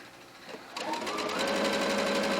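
A sewing machine stitching a hoodie shoulder seam starts up after a brief pause and runs with a fast, steady mechanical whir, close and clear, with no talking.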